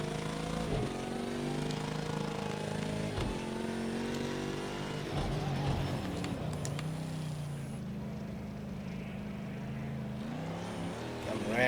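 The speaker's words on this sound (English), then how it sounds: "It's an odd sounding engine." Harsh, rough-sounding engine of a McLaren race car on a dirt track in the Project Cars racing game, droning and revving continuously with shifting pitch under occasional talk.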